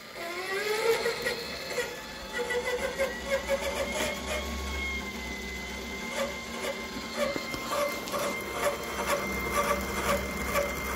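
Evolocity 350W electric bike motor running on about 15 volts, driving a slightly slack chain with a steady mechanical whir and a rhythmic ticking clatter throughout, fairly close, with a voice briefly audible underneath.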